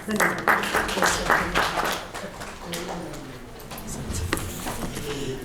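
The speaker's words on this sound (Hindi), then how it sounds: "ताली बजाने में आप कमज़ोर पड़ गए।" Applause at a Hindi literary seminar and dedication ceremony, a brief crowd clapping that fades within two seconds into room murmur and stray sounds.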